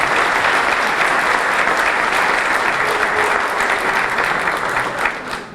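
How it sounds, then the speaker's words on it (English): Steady, dense applause from a crowd at a luncheon honoring the Greek prime minister, loud and sustained throughout with no voices over it. "Please give her a round of applause."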